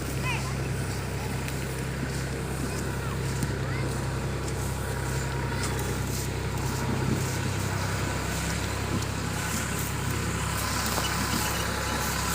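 A vehicle engine runs continuously at an outdoor cleanup site after a large religious conference, a steady low rumble and hum under ongoing voices and scattered activity.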